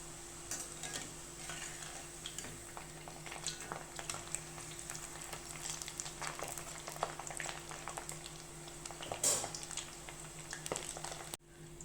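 Butter murukku dough fries in hot oil with a faint, continuous bubbling sizzle, scattered small crackles and pops, and one brief louder spatter near the end.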